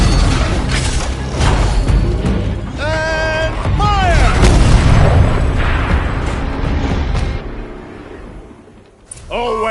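A turret cannon in Horizon Zero Dawn fires heavy booming shots amid loud battle rumble, with voices calling out in the middle and a fresh burst at the end.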